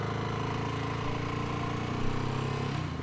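A BSA Gold Star single-cylinder motorcycle engine holding a steady drone at mid revs on an open road, loud and close with even harmonics throughout and no voices.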